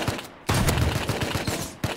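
Rapid gunfire in Rust cracks in a quick rhythmic burst of close shots after a short pause, with another sharp shot near the end.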